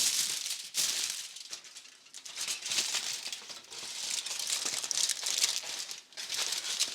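Aluminium foil sheets are crushed and crinkled into a dome for a lasagna baking dish, giving a close, loud, continuous crackling rustle with brief pauses between squeezes and no speech.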